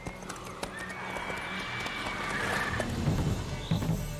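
Geralt's horse Roach in The Witcher 3 clip-clops along at a trot, hooves steady and close, with a long drawn-out whinny rising over the footfalls midway.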